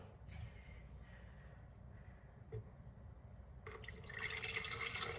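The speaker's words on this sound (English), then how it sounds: "we're rinsing our rice. We're gonna keep the water." Rice is rinsed in a kitchen with soft trickling and dripping of water, then a tap opens to a louder, steady stream of running water near the end.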